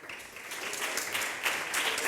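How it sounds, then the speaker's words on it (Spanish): An audience at a sports science congress on physical activity applauds with a steady wash of clapping that builds slightly and holds at a moderate level. "Un aplauso, por favor."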